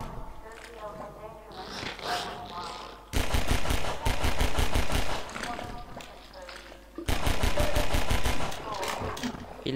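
Gunfire from the video game Half-Life 2 erupts in two loud sustained bursts of rapid shots, separated by quieter game sounds and a voice talking over the action.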